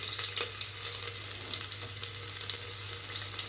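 Onions hiss in a pan of hot oil, about five spoonfuls, as the base for a ridge gourd sambar. A steady, dense sizzle stays close and even, with faint stirring clicks and no voices.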